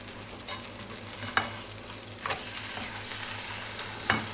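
Two-egg omelette with fillings frying in a pan, a steady soft sizzle with a few sharp scraping clicks of a spatula, close and alone without talk.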